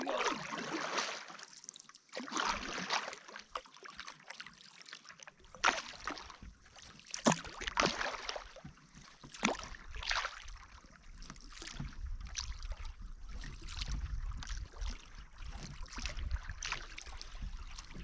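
Canoe paddling on Mahood Lake into a headwind, soft repeated splashes and drips of the paddle strokes with water swishing against the hull, close and fairly quiet over a low wind rumble.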